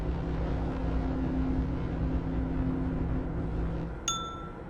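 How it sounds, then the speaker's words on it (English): A short bright ping from the maze car in the Myst Selenitic Age on Xbox, ringing out near the end over a steady low engine-like hum, a single clear tone with harmonics that fades quickly. "That's a ping again"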